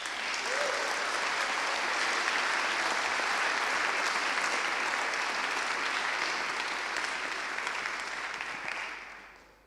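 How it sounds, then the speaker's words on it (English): An audience at an award ceremony during an education conference applauds a staff member standing up: dense, even clapping that holds for about nine seconds, then tapers off at the end. "give her a big applause"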